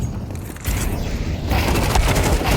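Rapid SMG fire rattles in a Counter-Strike 2 match, a dense burst of close shots with loud booming impacts over the last second and a half.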